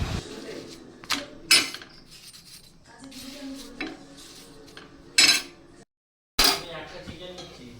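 Kitchen clatter of cutlery and dishes while roti flatbread is being made, with several sharp metallic clinks and knocks standing out over quieter rustling and a brief silence near the end; a voice can be heard faintly at times.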